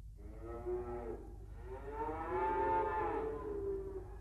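A cow in a cartoon gives two long, close mooing calls, a short low moo followed by a longer rising and falling bellow, over a steady low hum.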